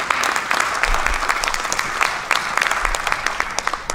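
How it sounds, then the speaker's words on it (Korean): Korean church congregation applauds a visiting pastor with full, close clapping that keeps up a lively, slightly uneven rhythm across the whole stretch. "우리 박수로 맞이해 주시기 바랍니다"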